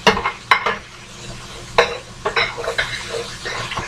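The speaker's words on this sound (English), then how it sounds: "We're going to kind of stir that up. Let it do its thing." Collard greens stirred in a pot with no added water, giving scraping, clinking utensil strokes against the pot over a faint sizzle, with several distinct louder scrapes spaced irregularly.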